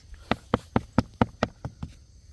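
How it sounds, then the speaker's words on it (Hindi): About ten sharp, hard knocks on a concrete stair in a steady rhythm, close by and loud, with the last few growing softer. "ये है कंक्रीट की आवाज़।"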